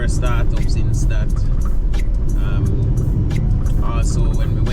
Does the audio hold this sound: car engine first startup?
yes